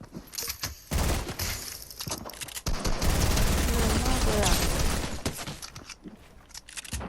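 Dense bursts of gunfire fill a Fortnite match, rapid volleys of shots in clusters, loud and close, with excited voices talking over the shooting.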